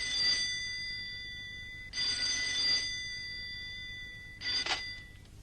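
A telephone rings three times, each ring a bright electronic trill with clear pauses in between, heard alone at a moderate distance with no talking.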